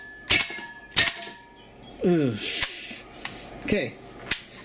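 A WE AK74 gas blowback airsoft rifle fires aluminum BBs at a soup can, giving a few sharp, loud cracks spaced out over several seconds, with a short spoken interjection between shots.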